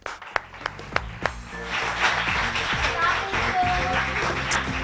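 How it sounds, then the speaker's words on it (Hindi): Studio audience applause in a morning television talk show, starting with a few separate claps and swelling into sustained, fairly loud clapping that carries on to the end. "आप सबकी भरपूर तालियों में"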